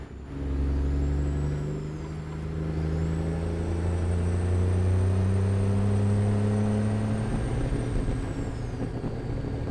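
Heavy truck engine in American Truck Simulator revving out to high RPM, a loud, sustained deep drone with rising harmonics that holds steady for nearly ten seconds, alone with no talk.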